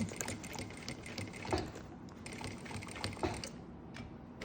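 A domestic sewing machine backstitches in reverse through a reversible double-sided toiletry bag with synthetic fabric underneath, a fast, steady mechanical whirring with ticking needle strikes and two brief louder bursts, heard close and alone.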